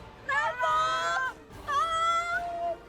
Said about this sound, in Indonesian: paling suara kucing kawin.